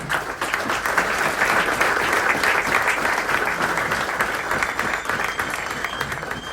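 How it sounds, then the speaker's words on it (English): Audience applause at a cricket book launch in Mumbai, loud sustained clapping from a large crowd, dense and even throughout with no speech over it. "Please, although the 75th birthday on 10th July has been passed, but clap him and wish him."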